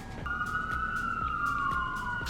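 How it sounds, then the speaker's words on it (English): Emergency vehicle sirens sound from a distance as they pass, one steady wailing tone sliding slowly downward over a low rumble of city traffic, faint and unbroken throughout. "Let's wait for the sirens to go by again."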